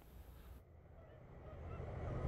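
Geese honking during autumn migration in Indiana, faint and distant, with a low rumble of background noise that grows slightly louder toward the end.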